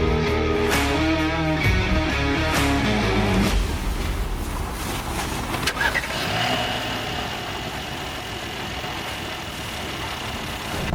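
A 2021 Mercedes-AMG C43 W205 4MATIC coupe fires up with a loud, rumbling engine start through its exhaust, then settles into a steady, close, burbling idle.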